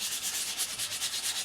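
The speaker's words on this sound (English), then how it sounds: "You can tell once you harden it, you can tell how the sandpaper sounds on it." Sandpaper rubbing back and forth across hardened steel of a 24-layer knife blade, a steady, close, rhythmic scratchy hiss with regular strokes and no talking.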